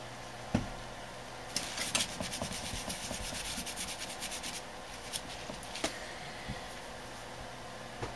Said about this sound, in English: just some rubbing alcohol and a napkin just to get rid of the old thermal paste